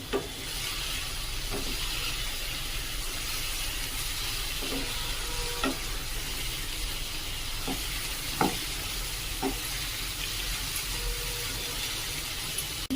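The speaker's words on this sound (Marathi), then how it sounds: "जी बारीक केलेली थोडीशी पडवळ होती ती पण त्यामध्ये टाकून घेत आहे व्यवस्थित परतून घ्यायची" Chopped snake gourd sautéing in a pan: a steady, close sizzle runs throughout, with a few sharp clicks and taps of a spoon stirring against the pan.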